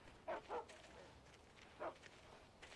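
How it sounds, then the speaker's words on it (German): A dog barks in the Alan Wake video game, three short muffled barks at a distance over low ambient background noise. "Ein Hund."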